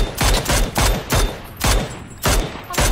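Repeated gunfire in a shooter video game with an M4 rifle and Mini, loud close bursts of shots in a steady rhythm of about six volleys, each a sharp crack with a short decay, no voices.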